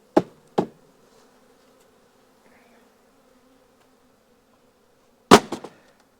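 Honeybees are knocked off a frame down into a hive box: two sharp knocks at the start, then a steady low buzz of many bees, then a final cluster of thuds.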